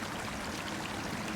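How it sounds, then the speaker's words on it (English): A steaming hot spring stream drains into a river, giving a steady, close, full rush of flowing water that stays even and unbroken throughout. "It kind of just looks like a hot stream that drains out into the river."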